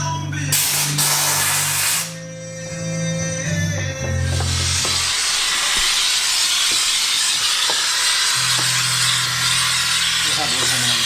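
A steam cleaner hisses steadily and loudly while cleaning a BMW R1200 RT motorcycle, a continuous broadband spray that briefly dips and resumes, with low tonal hum underneath.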